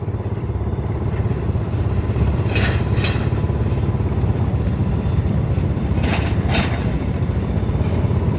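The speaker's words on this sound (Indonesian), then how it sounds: "lokomotif kecil Skoma nomor 6 mengambil jalur double track sebelah kanan" A small sugarcane-railway locomotive, number 6, chugs steadily close by on double track, a continuous low rumble with a couple of brief metallic clanks.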